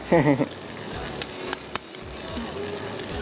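Kebab mixture of raw minced meat being stirred as it fries in a pan, with a brief burst of sizzling and scraping at the start, then a steady soft frying hiss with occasional utensil clicks.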